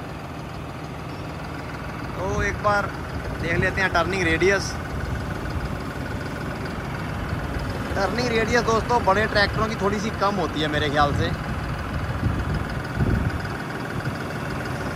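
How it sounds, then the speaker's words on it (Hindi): A 2023 New Holland 5620 CRDI tractor, a 65 hp common-rail diesel, idles steadily as a low continuous rumble beneath someone talking through most of the clip. "CRDA इंजन थोड़े चक्कर लेके स्टार्ट होता है"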